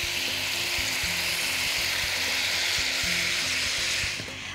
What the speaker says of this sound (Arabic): هرمي عليه اللحمة المفرومة، مش هستناه يتشوح، يعني مش هستناه يتشوح مني، يدوب أقلبه تقليبة بسيطة، وهننزل اللحمة المفرومة اللي عندي